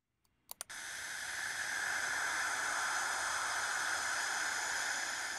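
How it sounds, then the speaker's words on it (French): Charged particles around Saturn picked up by the Cassini probe's radio instrument, converted to sound: two or three sharp clicks, then a steady broadband hiss that swells in and holds loud and even to the end. "Ce sifflement est produit par des particules chargées dans l'environnement."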